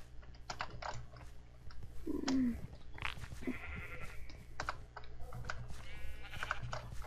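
Minecraft sheep bleating during the Sheep Quest minigame, a couple of short bleats rising over a busy patter of rapid computer keyboard typing and clicks, fairly quiet overall.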